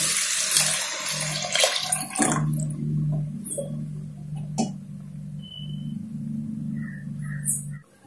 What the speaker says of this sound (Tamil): 1:15 அப்படின்னு நான் வந்து அளந்து ஊத்திருக்கேன்.